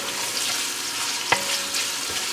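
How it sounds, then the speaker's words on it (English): Pork frying in a pan over medium heat, a steady close sizzle with a single sharp stir or scrape partway through and a fainter clink near the end. "But you basically want to fry it down and get the flavor out of it."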